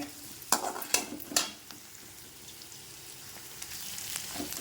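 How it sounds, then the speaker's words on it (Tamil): Onions sizzle in hot sesame oil for mutton kulambu, with a few sharp stirring scrapes early on, then a soft steady crackle of frying continuing alone. "பெரிய வெங்காயம் போட்டு நல்லா தாளிப்போம்."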